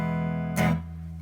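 Clean electric guitar tone with no pedal engaged: a sustained ringing chord, a fresh strum partway through, then a steady decaying sustain, moderately loud and alone.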